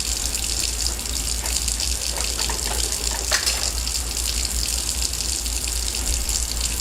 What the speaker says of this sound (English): I'm going to use just tap water.